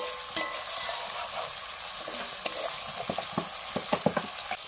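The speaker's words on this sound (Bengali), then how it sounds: "আমি একটু নেড়ে দিচ্ছি। এই কষাটা হয়ে গেছে" Spiced egg curry (dim kosha) cooking down in a pan, a soft continuous sizzle with a spatula stirring and tapping, the knocks growing more frequent toward the end.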